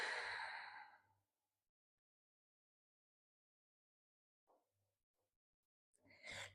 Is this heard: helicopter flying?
no